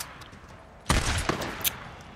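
Three sharp bursts of video game gunfire in Days Gone crack out over a quiet background, spaced a few tenths of a second apart, loud and close.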